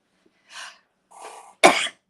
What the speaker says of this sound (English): that sneeze came on so fast I didn't have time to mute myself